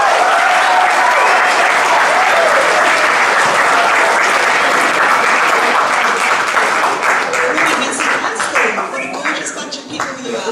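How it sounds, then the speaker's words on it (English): An audience gives loud, sustained applause for a speaker at a visiting writers event; the dense clapping holds steady, then thins and fades toward the end. "Please, could you give a round of applause for Jolisa Gracewell?"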